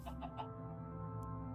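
Chickens in Minecraft give a few soft, quick clucks at the start over steady background music, fairly quiet, with no talking.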